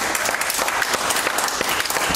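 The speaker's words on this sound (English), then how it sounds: "Give the Lord a hand clap." A church congregation applauds and claps for the Lord, a dense, loud, continuous wash of many hands clapping close by with no talking, lasting about two seconds.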